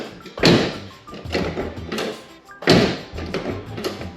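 Door of a 1992 Pontiac Firebird being swung shut after hinge bushing work, two solid thunks a couple of seconds apart, each with a short metallic rattle, close up.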